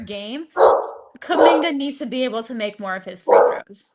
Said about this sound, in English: I apologize for my dog going absolutely crazy.